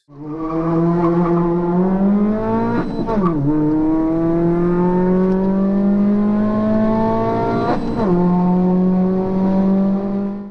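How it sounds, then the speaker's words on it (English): Suzuki Swift Sport ZC32S, a naturally aspirated hot hatchback, driven hard: a loud close engine revving up through the gears, with two sharp drops in pitch at the shifts and faint tire noise. "Number 2 moves away from the heavy luxury and shifts towards the pure lightweight mechanical simplicity of a naturally aspirated hot hatchback."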